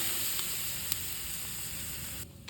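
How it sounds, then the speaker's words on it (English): Picanha steak coated in Black Magic seasoning sizzling on a hot surface, a steady close crackling hiss with a few small pops before it cuts off near the end. "So black magic has a very nice sizzling effect."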